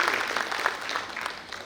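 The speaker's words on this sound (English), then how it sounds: "I request everyone to please give him a huge round of applause for session." An audience at a steel industry conference in Bhilai applauds a session chairman, with dense, steady clapping filling the hall briefly at moderate volume.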